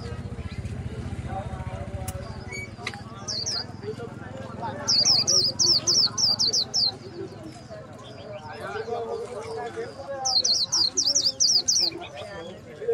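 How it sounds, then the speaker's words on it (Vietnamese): A tame Japanese white-eye songbird at a bird market trills in rapid high-pitched twittering bursts, repeated twice over a busy background of market noise and voices. "Chim mà líu rất hay nhưng mà không gối mỏ."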